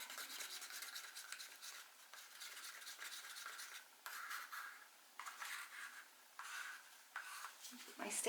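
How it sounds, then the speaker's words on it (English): Sticks scrape and tap inside small cups of acrylic pour paint as the colours are stirred, a quiet, close, irregular rubbing with short pauses between strokes. "Let me stir them up nicely."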